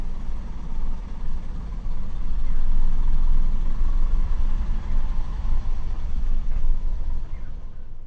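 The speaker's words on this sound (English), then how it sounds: "balance both foot pedals to keep the engine speed just over 1000 RPM whilst letting the car move slowly forward" Manual car engine held just over 1000 RPM while pulling away slowly on a hill, a steady low rumbling drone that swells slightly midway, close and alone.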